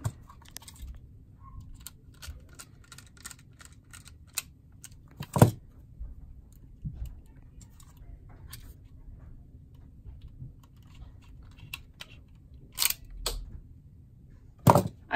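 Small screws being driven into an IBM ThinkPad T60 laptop, heard as sparse quiet ticks and scrapes with a few sharper clicks, close by and with no talk.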